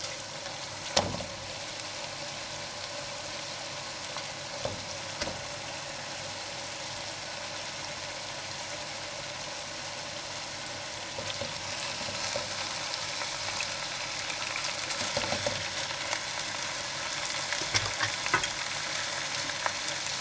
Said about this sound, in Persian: مرغا من که از قبل سرخ کرده بودم میشینم کف تابه.